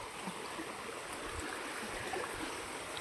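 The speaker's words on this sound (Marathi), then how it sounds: "हा वाळ वाहतो आहे, जिथून ह्या सगळ्या शेतीला पाणी दिलं जातं" Water runs steadily along a farm irrigation canal, a soft continuous rushing flow heard close but faint, with no voices.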